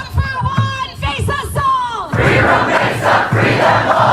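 A protest crowd rallying for student Ramisa Ozturk chants loud call-and-response slogans in unison, voices rising and falling in rhythmic bursts, dense and close throughout, with a roar of massed yelling in the second half.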